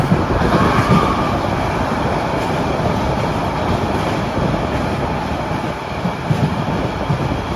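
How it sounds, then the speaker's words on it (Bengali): A passenger train running on the way to Cox's Bazar, heard from on board as a loud, steady rumble with rolling wheel and carriage rattle throughout. "আমাদের ট্রেনটি সেই অবিরত ছুটে চলেছে আমাদের সেই গন্তব্যের উদ্দেশ্যে নিয়ে যাওয়ার জন্য"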